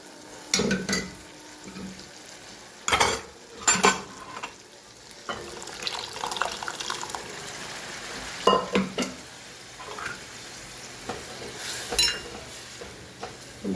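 Dal poured into a hot pan and stirred, with sharp bursts of sizzling and splashing, then spoon scrapes and bubbling between louder surges, close up.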